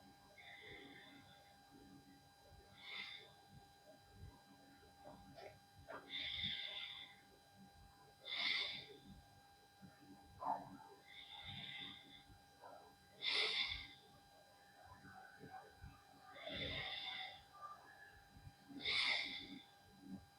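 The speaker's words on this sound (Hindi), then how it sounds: "जो सांसों की आवाज आपको सुनाई दे रही है" Deep, deliberate breaths for meditation practice repeat in a steady rhythm about every three seconds, each a forceful, close nasal inhale or exhale with quiet pauses between and no talking.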